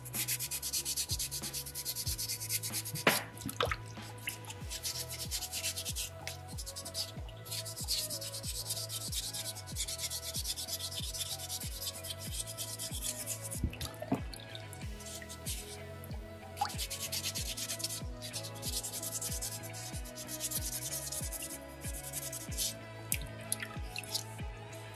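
A soapstone carving from a small beaver kit is rubbed with folded sandpaper, a continuous close, dry, rasping scrape in steady back-and-forth strokes, with no talk.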